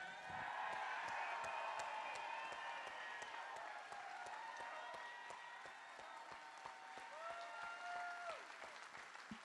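A political rally crowd for Winsome Earle-Sears in Virginia breaks into sustained applause with whoops and cheers, a broad wash of clapping that stays steady for several seconds with a few voices calling out over it.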